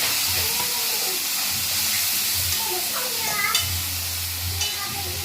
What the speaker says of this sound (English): So you're frying up the saltfish.